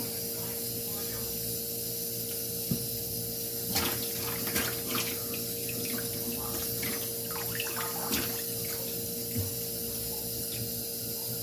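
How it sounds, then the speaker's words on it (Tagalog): Vinegar poured from close by over a fish head being cooked as paksiw, giving a steady splashing liquid trickle with scattered wet spatters over a constant background hum. "Lagyan natin ng suka."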